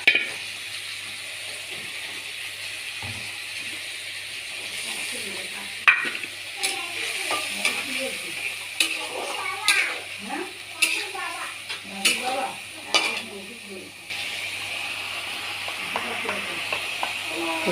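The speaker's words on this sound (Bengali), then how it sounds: "এটাকে এবার কষাবো ভালো করে।" A paste of turmeric, cumin and chilli powder soaked in water sizzles steadily in a hot pan with green chilli, while a spatula clinks and scrapes intermittently nearby; a voice talks faintly over part of it.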